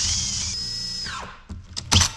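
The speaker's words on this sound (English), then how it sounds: "I'm just going to index it by drilling the pilot hole" Power drill boring a pilot hole into a wooden bench to guide a hole saw during interior work on a wooden boat: a loud, close whine that winds down, followed by a few sharp clunks.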